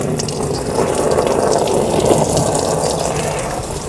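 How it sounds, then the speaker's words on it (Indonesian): Coolant drains steadily from the bottom of a Hyundai Trajet radiator into a catch container, a continuous close gushing, splashing flow at even loudness with no voices. "drain radiatornya dari bagian bawah ya"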